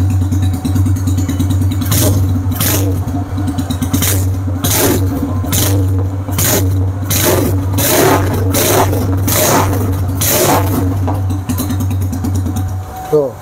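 A custom-built motorcycle engine, hand kick-started, runs at a loud steady idle with a strong low thump, punctuated by repeated sharp revs and clattering bursts throughout, with people talking over it.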